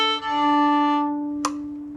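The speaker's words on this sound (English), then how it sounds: "your bow is not quite catching the string. It might sound like this." A single sustained bowed string note played breathy, the bow not quite catching the string, giving a thin airy tone that fades over about a second and is followed by a brief scratchy touch, alone and close.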